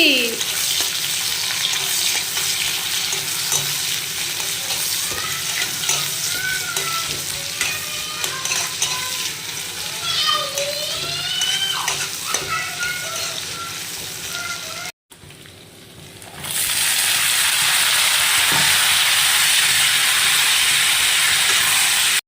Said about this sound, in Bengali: এখন আলুটা ভেজে নিই।